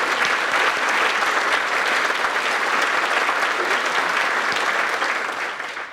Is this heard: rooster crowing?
no